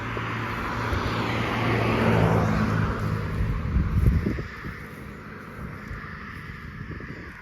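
A car drives past a Halloween yard haunt at night, a broad whooshing road rumble that swells, peaks and fades away, heard alone without talk.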